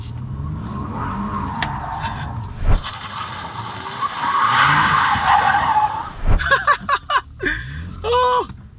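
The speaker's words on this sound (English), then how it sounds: "That was more like a donut." Turbocharged Kia Stinger GTS spinning a donut, its tires skidding and squealing loudly for several seconds with engine revving underneath, then a short burst of sharp chirps and squeals as it settles; a voice calls out briefly.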